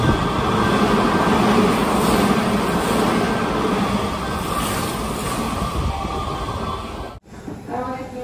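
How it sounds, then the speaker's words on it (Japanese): A train in Osaka rumbles past close by with a loud, continuous roar and metallic rattle that slowly eases, then cuts off abruptly before faint voices and background noise follow. "電車だ"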